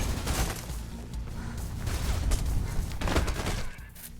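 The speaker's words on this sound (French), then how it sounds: "Et voilà, là, eux, ils me mettent des balles." Enemy gunfire in the video game Mirror's Edge, a dense, continuous burst of overlapping shots and impacts at steady loudness, easing slightly near the end with no voices.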